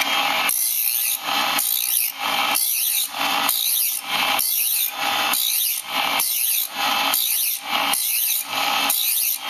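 A scraper blade's edge is ground to a deeper arc on a grinder: about ten loud, evenly spaced grinding passes, each a harsh rasping burst with brief gaps between, and no talking.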